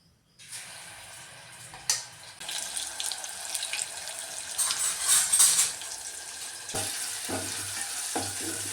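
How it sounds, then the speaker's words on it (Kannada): Spices and ginger-garlic paste sizzle in a pan for a mutton dish, a steady loud frying hiss with stirring scrapes and clatter throughout, with no talking. "ಕ್ಲೀನಾಗಿ ಹಸಿ ವಾಸನೆ ಹೋಗೋವರೆಗೂ ಮಾತ್ರ ಫ್ರೈ ಮಾಡ್ಕೋಬೇಕು"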